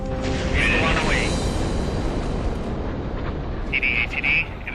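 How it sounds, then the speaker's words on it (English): Interceptor missile launch at a flight test, a sustained, loud, broadband roar heard from a distance, with a radio voice breaking through over it. "Interceptor 1 away"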